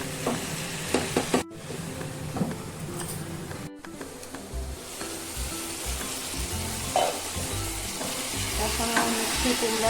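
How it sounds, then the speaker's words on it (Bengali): Mutton and pumpkin sizzle loudly in a hot pan for a curry, with a spatula scraping and stirring through the frying in a steady, close, continuous crackle. "মিষ্টি কুমড়া দিয়ে আরেকটু কষিয়ে নেব"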